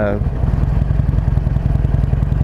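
Harley-Davidson Iron 883 motorcycle with a Stage-1 ECM flash, riding on the road: a loud, steady, throbbing low engine rumble with a regular pulsing beat that continues throughout, after a brief higher whine at the start.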